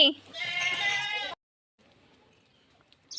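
A single clear bleat from a lamb or young kid goat sounds close and loud, followed by near silence with faint rustling.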